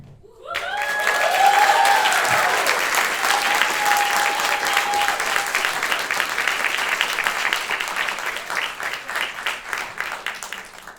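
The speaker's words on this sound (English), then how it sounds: "we give a round of applause to the wonderful, most brilliant cast and crew of tonight's show" Theatre audience applauds the cast and crew after a stage performance of The Witches, sustained dense clapping swelling quickly and holding steady for several seconds, with a brief musical tone sounding early on.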